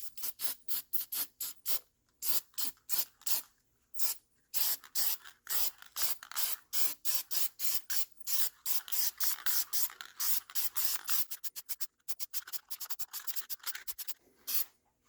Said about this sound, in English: looks like I'm going to be shooting the last coat with this SEM